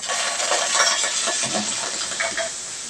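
Sardines hit a hot pan with no oil, cooked with pako (fiddlehead fern), giving a steady bright hiss and sizzle with small crackles throughout, fairly close and loud.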